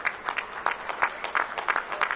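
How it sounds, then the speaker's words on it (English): Audience applause at an airport terminal opening event for American Airlines at Reagan National, a moderate, somewhat thin round of clapping with individual claps audible, heard at a distance without talk. "Give MWA a big round of applause."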